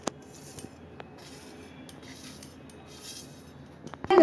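A spoon scrapes and rubs softly as biscuit gulab jamun mixture is mixed in a bowl, with a few light clinks and a louder clatter at the end.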